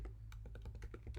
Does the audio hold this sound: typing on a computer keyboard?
yes